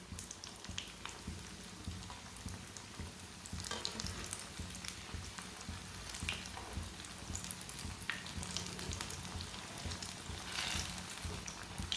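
Potato tikki shallow-frying in a pan with little oil over low heat, giving a steady, faint crackling sizzle throughout with no one talking.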